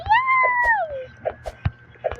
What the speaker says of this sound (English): There's some meow.